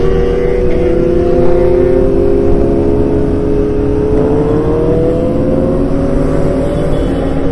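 Sports motorcycles on a group ride, including a Kawasaki Z900, ZX-6R, ZX-10R and an Aprilia RS457, give a loud, continuous engine drone that slowly shifts in pitch as they rev and cruise close by.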